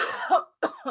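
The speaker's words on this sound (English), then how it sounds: "So I'm going to do coughing." Deliberate coughing, a couple of forceful coughs close to the listener with a short silent gap between bursts.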